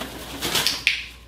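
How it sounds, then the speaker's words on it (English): Startled birds resting on the floor react during parrot flight training indoors, giving a brief burst of bird calls and fluttering near the close, heard alone without talk. "we freaked out the birds on the floor"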